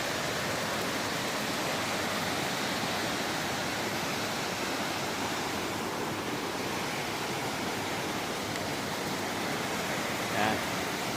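Steady, broad rushing water fills the whole clip, a continuous roar like a fast-flowing stream close by, with no breaks.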